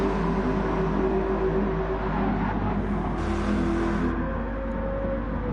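Race car engine in a PS4 racing game, revving hard and climbing through the gears, then easing for braking; a steady, loud, continuous motor drone with shifting pitch, no voices present.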